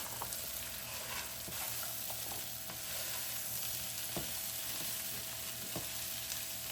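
Thanksgiving side dish cooking down in a pan, with a continuous low sizzle and scattered scrapes and taps of stirring, close and moderately quiet, with no voices.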